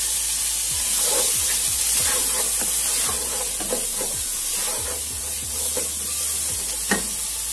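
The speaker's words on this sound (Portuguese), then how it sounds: "Eu vou colocar aqui a casquinha da abóbora para refogar aqui junto." Pumpkin skins sauté in a hot pan with a constant loud sizzle and hiss. Repeated spatula scrapes and taps sound over the frying, with no voices.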